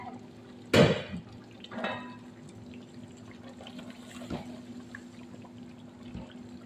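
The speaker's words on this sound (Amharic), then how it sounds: "አሁን ትንሽ ውሃ አድርጋለሁ ለማፍታለያ" A little water poured into a pot of chicken biryani, a brief splashy pour near the start, a second smaller splash, then quiet simmering with faint drips.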